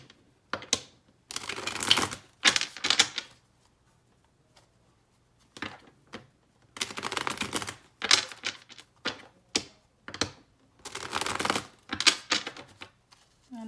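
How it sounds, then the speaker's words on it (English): Tarot cards shuffled by hand in quick riffling, clattering bursts of a second or two, separated by short pauses, close and clear with no talking. "let me just shuffle quickly"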